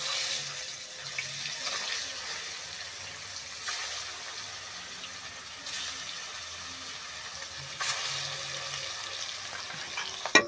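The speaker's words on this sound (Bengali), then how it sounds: "এবারে আমি এই নুন হলুদ লাগানো মাছগুলোকে ভেজে তুলে নেব।" Salt-and-turmeric-coated fish frying in hot oil gives off a steady, close sizzling hiss that runs throughout, with a few faint clinks over it and no talking.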